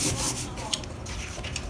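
Paper shapes on a kindergarten geometric-shape landscape collage are rubbed flat by hand, giving a brief, close, soft scratchy rubbing with a few small swipes.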